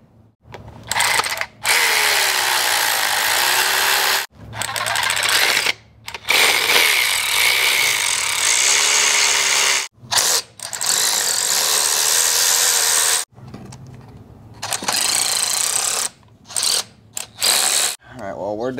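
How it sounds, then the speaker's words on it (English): A ratchet wrench removing oil pan bolts from a 1993 Cummins engine, loud rapid clicking in repeated bursts separated by short pauses. "take off all 675 oil pan bolts, and take this oil pan off"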